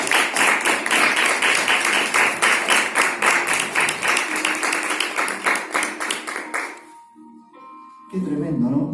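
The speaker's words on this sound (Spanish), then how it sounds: "¿No se merece un aplauso?" A church congregation applauds during a Spanish-language sermon, a dense burst of clapping that thins out and stops at about seven seconds; after a short pause a voice returns.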